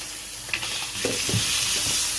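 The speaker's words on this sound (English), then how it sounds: "right now, these are going in the frying pan" Close, steady sizzle of burgers frying in a pan, with a few soft clinks and scrapes of stirring; no voices.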